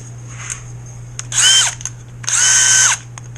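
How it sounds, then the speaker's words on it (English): A power drill whirs in two short bursts, revving up and winding down each time, with quiet clicks between them. "put this in your drill."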